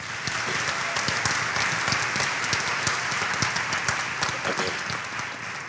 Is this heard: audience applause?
yes